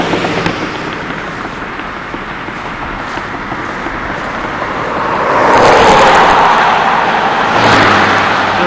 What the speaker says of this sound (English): Probably carries a lot more car traffic than truck traffic, but there are a number of trucks out on this roadway.